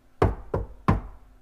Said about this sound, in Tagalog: may kumatok sa pinto ng kanyang studio